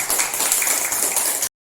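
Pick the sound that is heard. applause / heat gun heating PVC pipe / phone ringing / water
applause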